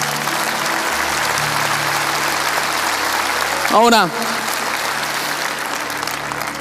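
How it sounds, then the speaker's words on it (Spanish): Church congregation applauds steadily throughout, a dense continuous wash of clapping, with a voice briefly calling out over it near the middle. "Vamos, dale un aplauso al Señor."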